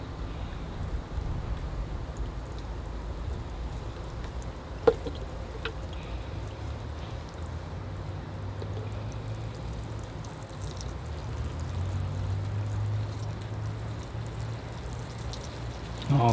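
Water pours steadily over a Natal ficus bonsai in a glass greenhouse, a continuous soft rushing wash with one brief knock partway through.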